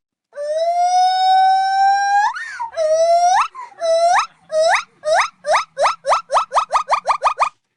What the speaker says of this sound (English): this is a gibbon call